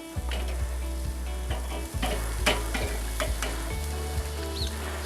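A burger patty sizzles on a grill while a spatula chops at it, a loud steady sizzle cut by regular sharp metallic taps and scrapes, with no one speaking.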